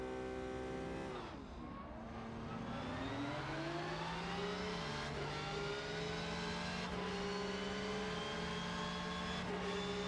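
GT3 race cars in the Rennsport racing game rev and surge off a standing start at Monza, a dense, loud layering of engines rising in pitch together and holding steady throughout.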